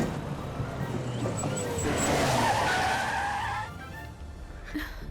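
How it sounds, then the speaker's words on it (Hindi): A car approaches from behind on a road, its engine swelling to a loud peak with a brief tire skid and squeal, then dropping back into a quieter rumble. "हमारे पीछे ही गाड़ी आ रही है।"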